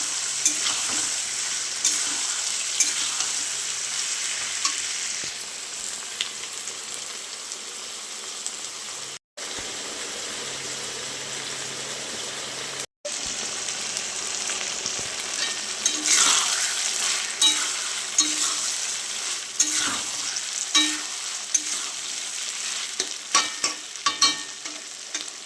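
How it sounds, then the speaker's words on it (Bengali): Ginger and garlic frying in a pan with a steady, loud sizzle and occasional stirring scrapes, continuing for a long stretch without voices. "দিয়ে দিলাম আদা রসুন।"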